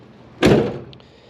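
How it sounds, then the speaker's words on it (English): A 1968 Camaro, resto-modded with an LS1 swap, has its car door swung shut: one solid thunk at close range, ringing briefly before fading into quiet. "we'll do a door test. Door test closes easy."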